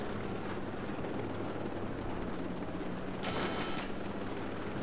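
Video game helicopter rotors drone as a steady, broad whir through the whole stretch, with a brief cluster of sharp rapid reports near the end.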